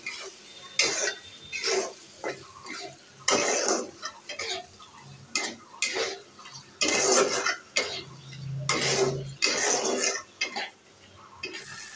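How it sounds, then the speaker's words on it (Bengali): Spiced lentils are stirred and fried down in a pot with a spoon, making a series of about ten short scraping strokes in an uneven rhythm. Faint sizzling sits between the strokes, close by, with no talking. "মশলার ডাউলটা কষিয়ে নিচ্ছি"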